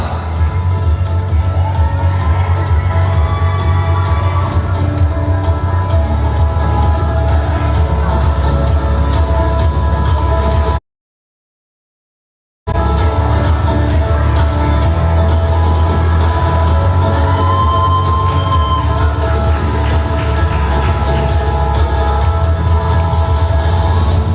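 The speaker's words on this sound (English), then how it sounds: "Huge round of applause." A large audience at a Mrs. Vogue Nepal pageant event claps and cheers loudly and continuously, with whoops rising over the dense roar; a short gap of silence breaks the sound midway before the crowd noise resumes just as strongly.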